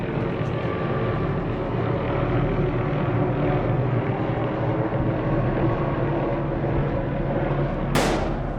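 A helicopter flies overhead with a steady low rumble, broad and loud throughout, and a brief rising whoosh near the end.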